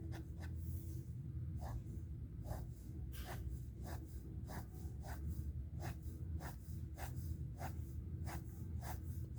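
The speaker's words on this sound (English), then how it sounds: "we can draw lots of vertical lines for the gown she is wearing for the bottom part" A pencil draws vertical lines on paper for the skirt of a gown in a sketch. A steady run of quick, soft scratchy strokes repeats in an even rhythm, close and quiet.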